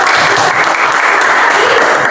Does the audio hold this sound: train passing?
no